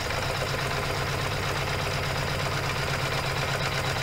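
Embroidery machine stitching a zipper pouch in colorway 5, a steady fast mechanical whir and rhythmic needle chatter running unbroken and fairly close throughout.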